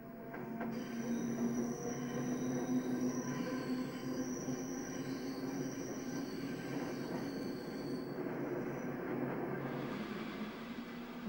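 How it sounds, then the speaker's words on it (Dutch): Steady rumble and hum from inside an electric train heading to Brussels-North, with a constant drone and faint high squealing tones, loud and unbroken throughout with no talking. "Terug in de elektrische trein voor het laatste stukje naar Brussel-Noord."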